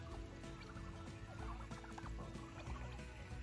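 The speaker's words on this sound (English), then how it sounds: "you got the turkeys out here just foraging" Wild turkeys foraging on a desert homestead, giving soft clucks and low gobbling calls at moderate distance over constant outdoor background noise.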